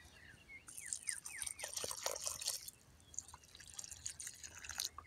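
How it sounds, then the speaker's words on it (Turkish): Water poured from a watering can onto tomato plants in a home garden, a close splashing trickle with patter and drips that runs steadily for several seconds. "Can suyunu da veriyoruz."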